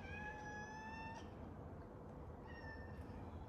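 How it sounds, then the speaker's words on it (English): A visiting cat meows at the door of a home, giving a clear, close meow, then a second shorter meow a moment later over a faint room hum. "I can't feed you, you're not my cat."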